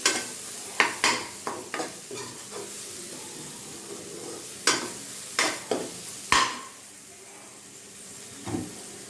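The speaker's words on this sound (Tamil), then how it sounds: "நல்லா மசாலே வதங்கட்டும்" Masala of turmeric and coriander powder sautéing in a pan for a tamarind-based manathakkali vathal kuzhambu, with a soft sizzle under repeated sharp scraping stirs of a spoon against the pan, close and fairly quiet.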